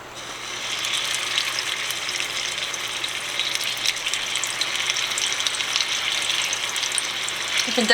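Meatballs browning in hot oil give a steady, dense frying sizzle, close and fairly loud, holding at an even level with crackling texture throughout and no talk.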